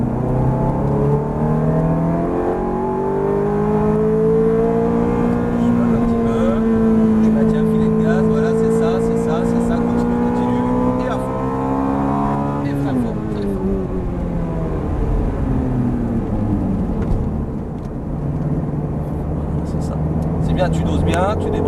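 A Ferrari F430 engine drones steadily on a race circuit under partial throttle, its pitch rising and falling smoothly as the driver holds and eases off the gas. An instructor's voice talks over it almost the whole time.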